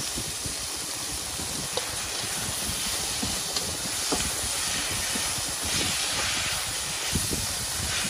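Sauce hitting a hot keto stir fry of mushrooms and peanuts sizzles in a steady, loud broadband hiss with small crackles, close up and with no talking.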